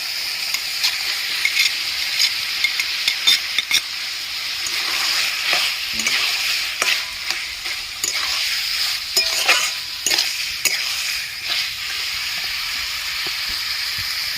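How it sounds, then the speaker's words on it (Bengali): Boiled potatoes tossed into a hot pan and stirred, a constant sizzle broken by repeated sharp scrapes and knocks of the spatula, close and lively throughout. "সেদ্ধ করা আলুগুলো দিয়ে দিচ্ছি"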